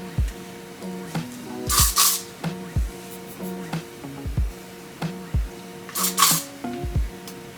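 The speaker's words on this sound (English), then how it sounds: "I will try to put a hairspray" Two short, loud hissing bursts of hairspray aimed at hair, well apart, heard among close clicking and rustling handling noises.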